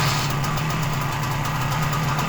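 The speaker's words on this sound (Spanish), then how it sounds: "la moto arrancó" A Zanella 200 motorcycle engine idling after long disuse, a loud close rhythmic throbbing with a steady low hum and regular knocking pulses, no talk over it.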